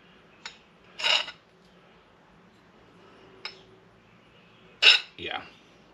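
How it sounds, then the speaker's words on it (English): A metal file rasps across the blade of an unhardened 3/8 inch screwdriver in a few short, separate strokes, close and crisp with quiet gaps between them. "you can see it bites into this file,"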